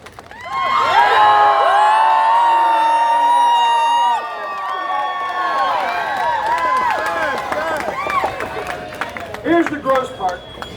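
An audience of a live stunt comedy show erupts in loud cheering, shouting and some clapping, holding strong before easing into scattered whoops and excited calls, with voices mixed through the crowd.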